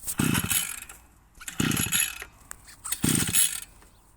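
A 52 cc petrol chainsaw being pull-started: three separate rasping, sputtering bursts about a second and a half apart, with quieter gaps between them and no speech.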